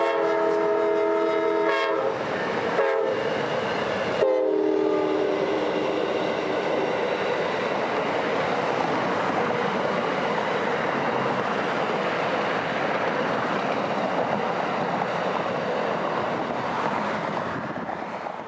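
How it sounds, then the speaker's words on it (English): Amtrak train 91, led with heritage unit 301 in the second position, passes in central Florida, sounding several loud chorded horn blasts before a long, steady rumble and clatter of railcars rolling by close up. "91 would be a notable train today, as Amtrak 301, their Day 1 painted heritage unit, would be in the second position."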